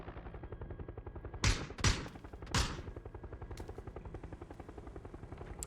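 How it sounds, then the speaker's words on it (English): Three loud, close shotgun blasts ring out in a video game, spaced about half a second apart, over a low rhythmic mechanical drone resembling helicopter rotors. "He hears the shotgun as the teams are making the push in."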